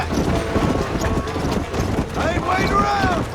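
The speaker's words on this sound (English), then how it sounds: "Our faithful war horse pushes up in front." Galloping horse hooves in the Red Dead Redemption video game, a war horse in a race: rapid thudding hoofbeats under continuous talk and game noise, fairly close.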